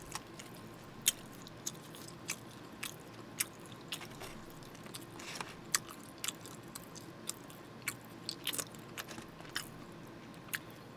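A person eats Korean bossam, boiled pork, from Won Halmeoni. Close, wet chewing and soft crunching bites repeat steadily at roughly one-second intervals, with no speech.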